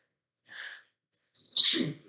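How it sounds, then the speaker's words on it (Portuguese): A person sneezes twice: a softer first sneeze, a pause with a faint intake of breath, then a second, louder and sharper sneeze close to the microphone, with no talking. "Perdão, espirrei, e vou espirrar de novo."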